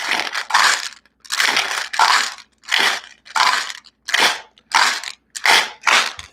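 Plastic packaging crinkled close to the microphone in about ten loud separate bursts of crackling, each lasting roughly half a second with brief silent gaps between them.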